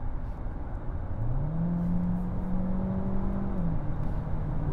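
A DS3 Crossback E-Tense hybrid's combustion engine hums steadily in sport mode under road noise, its pitch rising smoothly as it accelerates, then leveling off; no voices.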